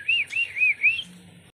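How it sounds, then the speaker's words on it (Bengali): Several pet birds chirp in quick, bright, repeated tweets, close and fairly loud, with a faint low hum underneath and no talking. "দেখুন পাখিগুলো কি সুন্দর না, এগুলো আমার পাখি"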